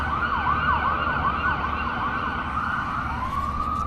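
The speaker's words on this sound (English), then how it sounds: "Had to wait for the ambulance to go by." An ambulance siren passing along a road, a loud continuous wailing and yelping tone over steady traffic rumble, with no talk.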